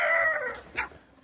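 A short chicken call from hens of a European breed, a single tonal cry that fades after half a second, followed by a brief sharp cluck, close and clear against a quiet background.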